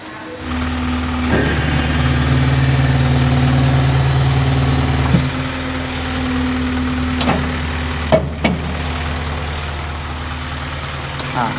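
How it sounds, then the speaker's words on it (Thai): A six-wheel dump truck's diesel engine rumbles into life and settles into a steady, loud idle, with a few sharp clanks and knocks over the running motor. "เดี๋ยวผมจะขออนุญาตสตาร์ทเครื่องยนต์ก่อน"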